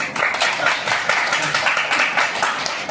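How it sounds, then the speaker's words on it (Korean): Students applaud in a classroom during an open history lesson, a dense, loud burst of clapping from many hands that holds steady throughout, with a few voices mixed in. "여러분 박수 한번 쳐주세요"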